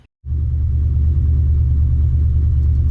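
A 1970 Plymouth Duster with a 340 V8, fitted with better heads and new roller rockers, starts and settles into a steady, loud, deep idle rumble that runs close and unbroken after a brief silent moment.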